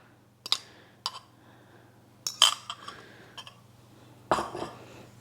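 Dog treat ingredients for cranberry apple mint treats being mixed in a bowl, with a few separate clinks and scrapes of utensil against the bowl in bursts, fairly close and moderately loud, with no talking.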